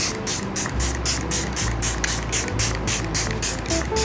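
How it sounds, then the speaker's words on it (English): A face mist spray bottle gives several firm spritzes in quick succession, close and crisp, each a short airy burst over a quiet room. "that's a nice firm spritz."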